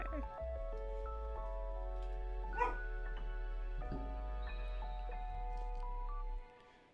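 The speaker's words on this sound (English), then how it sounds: "you don't need to bark." A pet dog barks a couple of sharp yips at fence work outside, heard indoors and somewhat distant beneath steady, light background music.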